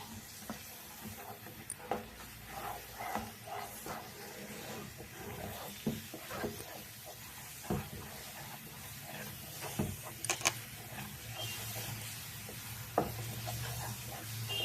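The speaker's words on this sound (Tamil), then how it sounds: "அப்படியே லை லைட்டாக நல்லெண்ணெய் போட்டு கலரி எடுத்துருவோம்" Black gram kali is stirred in a pan with a little sesame oil, giving a soft, steady scraping and faint sizzle with occasional louder clicks of the spoon against the pan.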